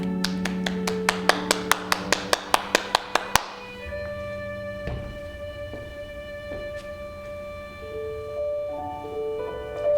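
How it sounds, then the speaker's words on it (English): Ballet class students clapping in a short run of about a dozen sharp, evenly spaced claps that stop after a few seconds, followed by sustained piano-like music playing on alone. "Give yourselves a clap"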